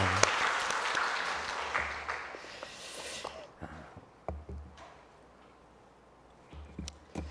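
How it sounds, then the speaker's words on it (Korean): Thankful applause from a Korean church congregation at a Sunday morning service, dense at first then thinning into scattered individual claps before fading to quiet room sound. "우리 하나님께 감사의 박수 올려드리도록 하겠습니다"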